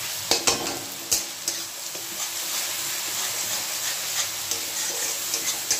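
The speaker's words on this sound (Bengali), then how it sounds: "এই পেঁয়াজ আর রসুন আর টমেটোটা ভালো করে আমি কষিয়ে নেব" Onion, garlic and tomato fry in a pan with a steady, close sizzle and hiss, broken by several scraping stirs of a spatula against the metal.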